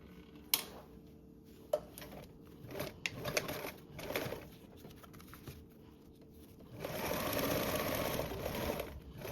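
A sewing machine sews a tacking stitch along a lining seam, starting with scattered clicks and short bursts of stitching, then settling into a steady, louder whirring run near the end, with no voices.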